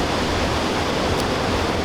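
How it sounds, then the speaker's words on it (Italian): Godafoss waterfall in Iceland, a dense, constant roar of falling water, loud and unbroken with no other sounds over it. "Godafoss, la cascata degli dei."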